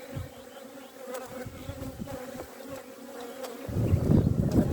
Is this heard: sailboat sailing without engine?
no